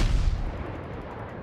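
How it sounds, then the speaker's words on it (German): A single heavy naval gun blast in World of Warships rolls out as a deep, loud boom that decays over about a second, with no talking over it. "Wer schießt denn da auf uns dahin?"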